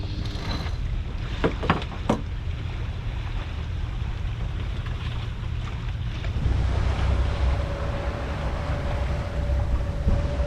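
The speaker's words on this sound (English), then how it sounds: "that high-pitched whirring sound, that's our propeller freewheeling" A sailboat's propeller freewheels under sail, making a thin, steady high whir that rises in the second half beneath constant wind and rushing water, with no talking.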